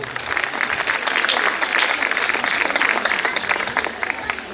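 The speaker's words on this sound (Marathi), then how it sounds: "या मर्दांसाठी एकदा जोरदार टाळ्या वाजवा रे." Sustained, dense applause from an audience at a Women's Day fashion show, clapping for the husbands of the participants; steady and fairly loud, with a crowd murmur underneath throughout.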